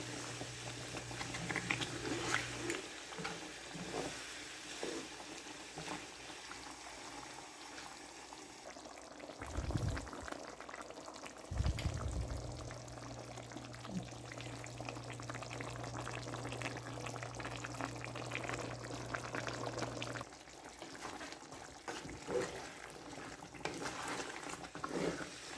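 Mangalorean-style chicken roasting in ghee in a pan, with a steady soft sizzle and bubbling that runs throughout, a low hum and occasional faint clinks, and no talk.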